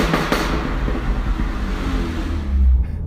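Mini Cooper John Cooper Works engine and exhaust echoing loudly in a parking garage, a steady close rumble with rough crackling texture that builds toward a deeper surge near the end.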